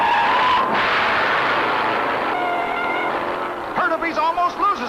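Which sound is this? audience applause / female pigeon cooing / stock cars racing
stock cars racing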